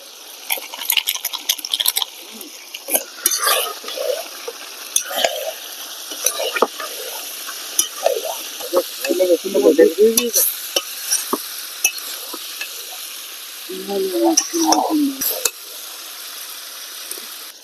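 Country chicken frying with turmeric, coriander, cumin and chilli powders, a soft sizzle under repeated scraping and clattering stirs of a ladle in the pot, with brief bursts of louder stirring.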